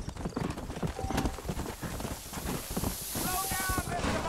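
Horse hooves clip-clop steadily at a walk in the Red Dead Redemption video game, set in New Austin, a close rhythmic clatter with faint wind and a brief jingle of tack, no talk over it.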